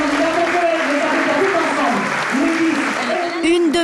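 An audience at a competition show claps loudly and steadily, a dense wall of applause with a voice speaking over it.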